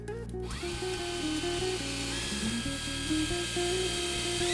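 A power drill drives screws to fix the rail of a wall-mounted kitchen cabinet, sounding as a loud, close whine that stops and restarts in several short bursts with pitch shifts as each screw bites.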